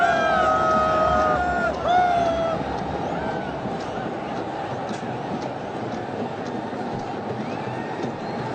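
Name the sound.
cricket stadium crowd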